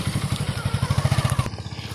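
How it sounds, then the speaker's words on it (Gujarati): Mini tractor engine running in the dark, a close, rhythmic pulsing chug of a small engine, steady for about a second and a half before the tone shifts abruptly. "જો આ ટ્રેક્ટર છે, મિની ટ્રેક્ટર"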